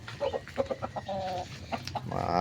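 A young rooster (stag) at a game farm gives a run of short clucks followed by a longer drawn-out call, close and clear against a low background hum.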